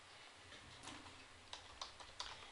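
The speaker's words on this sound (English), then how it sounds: "We're going to type something in here." Light typing on a computer keyboard, a short run of soft quick key clicks building to a few louder taps, close and quiet over faint room noise, with no talking.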